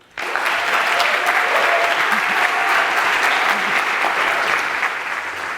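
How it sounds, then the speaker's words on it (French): A conference audience applauds three startup founders at a Montreal AI venture day, a loud, dense burst of clapping that begins abruptly and holds steady for about five seconds before easing slightly at the end. "Une très belle main d'applaudissements pour ces trois fondateurs."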